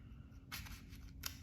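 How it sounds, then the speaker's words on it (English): Scissors cut paper during an art lesson: two or three soft, brief snips over a quiet room hum, fairly faint and close by. "you can just cut it with your scissors"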